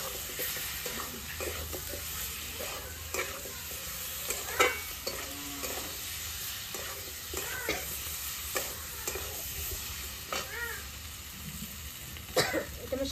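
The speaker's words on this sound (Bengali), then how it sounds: "মশলার সঙ্গে আলু আর আমরা ভালো করে কষে নিয়েছি।" Potatoes and peeled hog plums stirred with ground spices in a hot pan, giving a steady close sizzle with scraping spatula strokes and soft clinks throughout, no talking.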